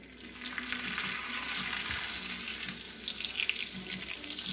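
Garlic-infused olive oil and melted margarine poured over shrimp in a hot pan, giving a steady, close crackling sizzle that runs throughout with no talking.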